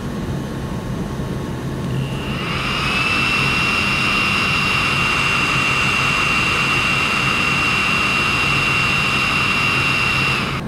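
A Creality Ender-5 S1 3D printer running with its stock fans starts up after a quiet moment into a steady, loud, close whooshing fan drone with a high whine, continuous to the end.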